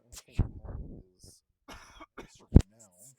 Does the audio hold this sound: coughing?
yes